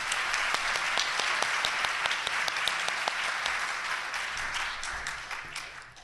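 An audience at opening remarks applauding a speaker, a dense, steady round of clapping that fills the room, then gradually thins and fades toward the end.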